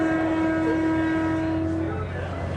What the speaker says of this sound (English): it has to be honking its horn so many feet before a station